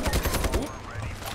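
Rapid turret gunfire in the PC shooter Iron Sight, a dense burst of repeated shots loud and close, thinning into fainter rattling toward the end.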